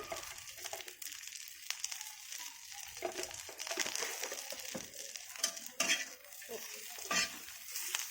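Meat for chicken rolls sizzles and crackles in a hot pan while being stirred and scraped, with uneven bursts of frying noise close by.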